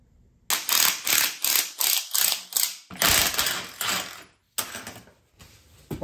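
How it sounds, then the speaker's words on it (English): Spring compressors being loosened on a BMW 750Li: a rapid run of sharp ratcheting clicks in regular bursts, close and fairly loud, then a brief pause and a few more ratchet turns, with no voices. "we can start loosening the spring compressors"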